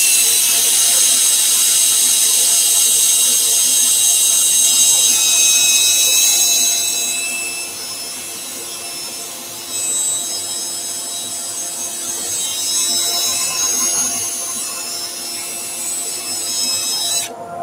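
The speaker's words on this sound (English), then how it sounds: "an actual power drill for power sanding as opposed to a cordless drill" A corded power drill fitted with a sanding attachment runs fast against wood, a loud steady high-pitched whine with abrasive rasping that eases somewhat partway through, then builds again.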